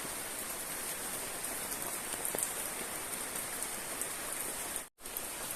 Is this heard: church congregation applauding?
no